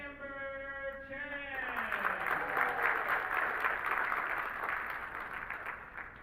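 An audience applauds steadily as players are introduced at a women's world 8-ball pool championship semifinal, with a fading musical tone at the start before the clapping takes over.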